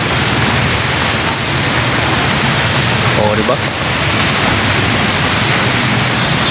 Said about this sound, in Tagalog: Walang katapusang ulan na to guys. You know, umuulan pa rin oh.